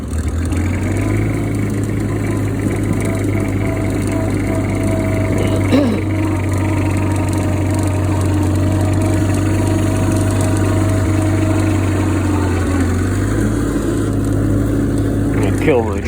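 A Cub Lo Boy tractor engine running at a steady idle with a carburetor needing work, a constant low mechanical drone with a faint change in pitch near the end, loud and close throughout.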